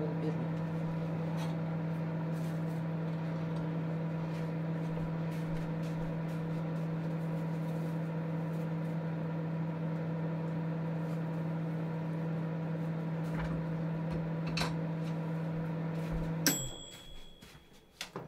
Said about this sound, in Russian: Микроволновка сделала свое дело.